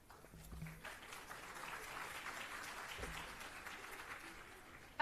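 Audience clapping fills a Delhi government school auditorium, a faint, diffuse wash of applause from a large crowd held at a steady level throughout, with no voices over it.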